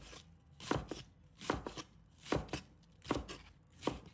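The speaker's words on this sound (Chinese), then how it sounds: "白菜切成条" Knife slicing napa cabbage into strips on a cutting board, six crisp chopping thuds in a steady rhythm, close and clear with no talking.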